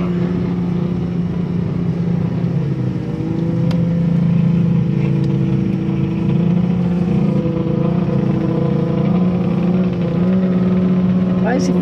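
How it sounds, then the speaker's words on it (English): Drag race cars a few blocks away, heard as a continuous distant engine roar with sustained revving tones, with people talking close by over it. "it's drag races."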